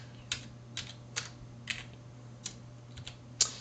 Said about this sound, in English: So we just have to type its file name